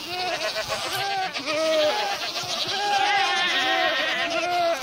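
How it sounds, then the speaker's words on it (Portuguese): A rare goat in the Minecraft video game gives loud, repeated bleating screams, high wavering cries that rise and fall one after another for several seconds. "A cabra rara, ela grita muito, velho."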